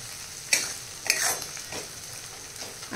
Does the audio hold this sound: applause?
no